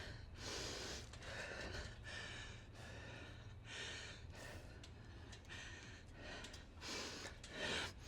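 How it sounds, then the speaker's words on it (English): Heavy, rhythmic breathing with gasps and snorts from someone doing sets of pull-ups in a workout, close and steady over a low constant hum, with no talking. "Control that breathing."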